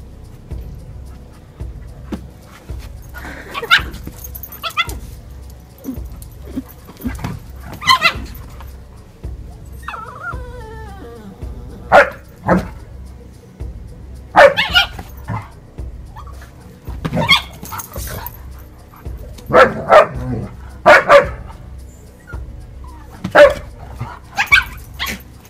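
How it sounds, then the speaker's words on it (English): Village dogs barking at a dump site, several animals giving repeated sharp barks and yips in irregular bursts, some near and some farther off, over a quiet outdoor background. "They're village dogs."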